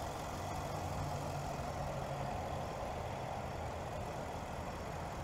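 Steady low idle of a 2023 Nissan Armada SV's 5.6-liter naturally aspirated V8, a faint, even rumble with broadband hiss and no speech.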